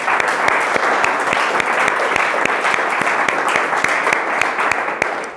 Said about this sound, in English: Let's give him a short round of applause,